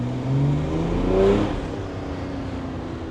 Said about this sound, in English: Feels weird revving a diesel round past 5 as well.